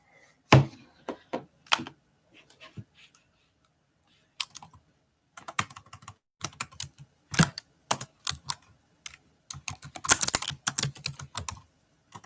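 Bursts of keyboard typing, irregular clusters of clicks with brief pauses between, close and fairly loud.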